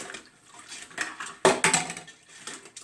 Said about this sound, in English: slowly and carefully we're going to pour it through the strainer